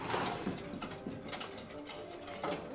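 Pigeons coo repeatedly in a Belgian racing pigeon loft, soft throaty calls overlapping in an ongoing chorus close by, with no talk.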